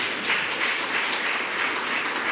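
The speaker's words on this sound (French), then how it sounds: "On va vous applaudir tous les trois." An audience applauds a round-table panel of three guests, a steady, moderately distant wash of clapping that holds evenly throughout without any voices.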